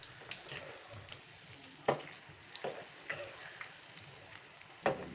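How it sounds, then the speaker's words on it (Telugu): Cauliflower 65 pakoda deep frying in hot oil, a low steady sizzle broken by a few sharp crackling bursts as pieces hit the oil, close and moderately quiet, with no talking. "ఆయిల్ వేడైన తర్వాత ఇలా పకోడీ ఇలాగైతే వేసుకోవాలండి"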